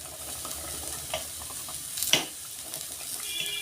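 Turmeric powder stirred into khichuri in a pot, with soft scraping stirs over a gentle sizzle and one louder clatter of the spoon partway through.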